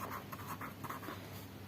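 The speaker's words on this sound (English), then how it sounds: "I'll write again this answer" Handwriting an answer with pen on paper, a run of quick close scratchy strokes, quiet and alone.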